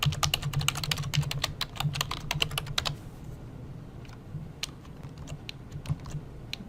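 A password being typed on a computer keyboard: a quick, dense burst of crisp key clicks for a few seconds, then a few scattered, slower keystrokes, close and clear.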